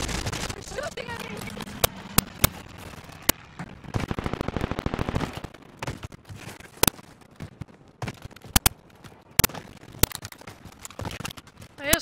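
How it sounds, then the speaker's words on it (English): Gunfire in Call of Duty Warzone on the Rebirth map: scattered sharp single shots and a dense burst of rapid fire, mixed with game ambience and a player talking. "They're shooting at me."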